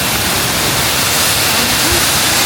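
Shifen Falls in Taiwan roars as a loud, unbroken wash of rushing water, close and steady throughout.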